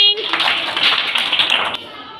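Second-grade schoolchildren in a classroom clap together in a brief burst of overlapping claps that fades after a couple of seconds, with a voice at the start.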